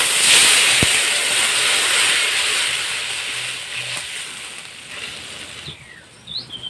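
Water hits hot mustard oil with five-spice tempering and turmeric in a pan, raising a loud broad hiss of steam and sizzle that slowly fades, with a sharp clink near the start.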